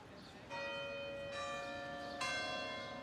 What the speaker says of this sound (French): lorsque le tintement des cloches des églises se déclenche